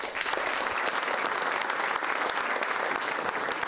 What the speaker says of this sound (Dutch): En ik wil een heel warm applaus voor Paolo.